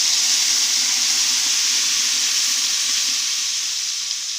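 Tomato paste hisses loudly in a hot pan as it is stirred, a dense, continuous sizzle that stays close and even throughout.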